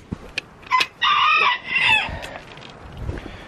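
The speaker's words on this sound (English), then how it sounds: "You gonna give us a crow?" A rooster on a homestead crows loudly and nearby in one cock-a-doodle-doo, with a few soft clucks before it and quiet outdoor ambience after.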